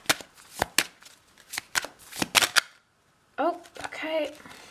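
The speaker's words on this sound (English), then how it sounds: "a little bit difficult to shuffle." A new, stiff deck of oracle cards is shuffled by hand in a series of sharp, close snapping clicks and riffles, followed by a short pause and then someone speaking.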